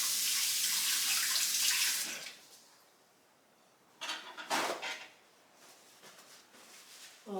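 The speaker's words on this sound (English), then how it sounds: "Let me rinse my hands real quick." Running tap water pours loudly for about two seconds, then stops. After a short pause come bursts of splashing as hands are rinsed under the faucet, close by, with no speech.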